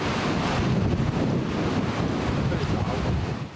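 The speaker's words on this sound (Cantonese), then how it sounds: "杏花邨都逃唔過風浪吹襲，湧浪拍岸" Typhoon-force wind and surging waves pound the shore at Heng Fa Chuen in Hong Kong during a No. 8 gale signal, a continuous, loud, rumbling roar of gusting air and breaking surf with wind buffeting the microphone.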